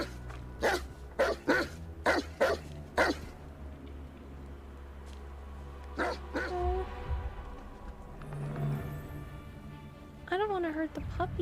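Puppies in the video game Hogwarts Legacy give a run of short yipping barks near the start, then scattered whimpers and yelps over a steady game background, with a voice talking at times.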